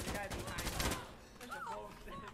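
Bursts of rapid gunfire and a heavy blast crackle through a firefight in Insurgency: Sandstorm, loud and dense at first, then thinning as voices talk over the fading noise.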